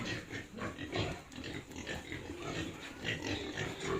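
A sow and her piglets grunt and oink continuously on a farm, a busy, overlapping chorus of snorts and squeals at moderate distance with no talking.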